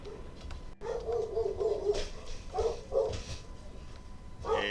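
A dog barks and yips in a series of short, mid-pitched bursts, some close together and others spaced apart, fairly near and loud over a low background hum.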